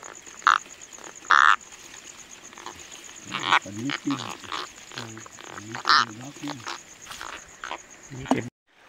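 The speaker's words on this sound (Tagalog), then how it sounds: "yung nahuli ngayong gabi, yung mga palaka o gakong" Native frogs croak in deep, pulsing bursts at night, several calls overlapping near the microphone, with occasional louder knocks and a faint steady insect-like tone.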